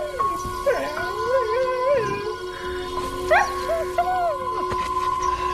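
An injured, limping dog whimpers and lets out drawn-out, wavering howl-like cries, several rising and falling calls over a steady background tone, fairly close.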